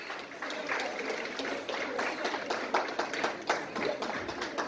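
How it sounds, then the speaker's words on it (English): An audience applauds a performer at a temple benefit gala luncheon, dense, continuous clapping from many hands heard from a moderate distance at fairly low level, with no voices over it. "Please give a round of applause to Miss Divya Unni."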